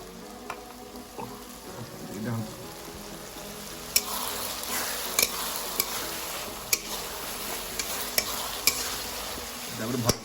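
Crab curry masala stirs and fries in a pan on high flame, a steady sizzle with repeated sharp scrapes and clinks of the utensil at irregular intervals.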